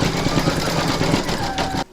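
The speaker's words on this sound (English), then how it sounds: "you're going to stitch round number 4, and that's going to do the satin stitching around the edge" Embroidery sewing machine running fast, close and loud, hammering out a dense, rapid needle rhythm while satin stitching the edge of an in-the-hoop appliqué bell, then cutting off abruptly near the end.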